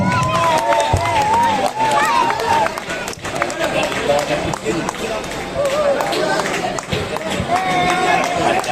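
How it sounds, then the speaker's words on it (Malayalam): Crowd at an elephant head-raising contest in Vypin cheering and clapping, dense and lively throughout, with a voice calling over a loudspeaker above the crowd noise. "എല്ലാവരും നല്ല രീതിയിൽ കൈയടിച്ച് കൈയടിച്ച് ആർപ്പ് വിളികളുമായി പ്രോത്സാഹിപ്പിക്കണമെന്ന് താല്പര്യപ്പെടുന്നു"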